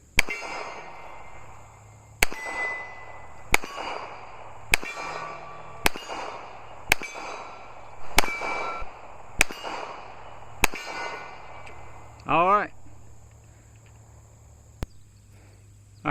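A Baby Desert Eagle pistol firing steel case ammunition: about nine sharp, loud shots spaced roughly a second or two apart, each with a ringing tail, then a brief warbling sound and one fainter crack near the end.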